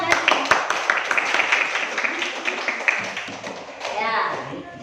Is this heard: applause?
yes